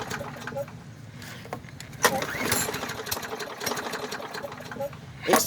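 A Craftsman lawnmower engine with a regular carburetor sputters and chugs rapidly as it tries to start, loud and close, with a brief surge near the end.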